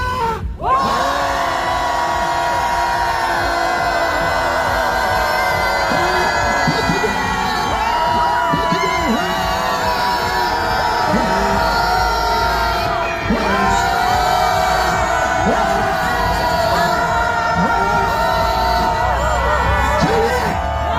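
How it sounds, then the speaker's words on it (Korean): A large crowd at an outdoor rally opposing a presidential impeachment, in front of the Constitutional Court in Seoul, shouts and cheers together in a loud, sustained roar lasting about twenty seconds, with whoops and voices rising throughout. "다같이 함성 10초간 발사!"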